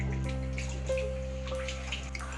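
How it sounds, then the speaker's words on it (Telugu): Water is poured into a pot of chicken curry, a steady continuous splashing stream over a low kitchen hum, with no talking. "ఇప్పుడు ఇందులో మనం వాటర్ యాడ్ చేసుకున్నాం."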